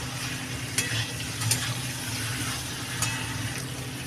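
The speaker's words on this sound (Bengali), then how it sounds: "সবজি সে আলু আর পটল যেগুলো ভাজা করে রাখছিলাম এইগুলো দিয়ে ভালো করে এবার মশলার সাথে কষিয়ে নেবো" Fried potato and pointed gourd being stirred with spices in a hot pan, a steady sizzle broken by a few sharp scraping clicks of the spatula, close and alone.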